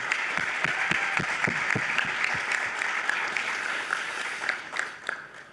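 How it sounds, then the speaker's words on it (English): An audience at a local candidate debate gives a sustained round of applause for the organizers, moderately loud and even throughout, with a few distinct claps near the end. "let's give them a round of applause for all the work they have done"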